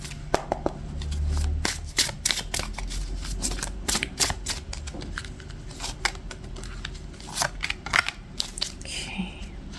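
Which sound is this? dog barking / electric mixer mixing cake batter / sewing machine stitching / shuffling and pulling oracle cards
shuffling and pulling oracle cards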